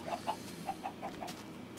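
A Minecraft chicken clucks in a short rhythmic series of soft, evenly spaced calls over a low steady background hum, with no one talking.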